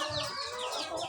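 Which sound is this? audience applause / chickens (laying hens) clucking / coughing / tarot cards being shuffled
chickens (laying hens) clucking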